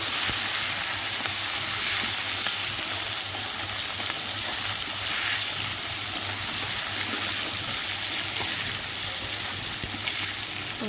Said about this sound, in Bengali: এটাকে ভেজে নেব